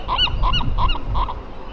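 Birds call on Alcatraz Island, the former prison island in San Francisco Bay, with four loud goose-like honks in a steady, evenly spaced rhythm close by over a low background rumble.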